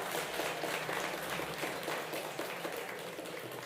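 An audience at a live art auction applauds a world-record sale, steady dense clapping from a crowd filling the room, fairly faint and without talk.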